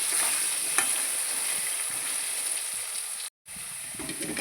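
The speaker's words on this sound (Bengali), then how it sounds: "এবার তারপরে কিছুটা লাল লাল করে আলুগুলোকে ভেজে নেব।" Potatoes fry in oil with turmeric and salt in a pan, a steady soft sizzle and hiss heard close by, with no one talking and one brief dropout near the end.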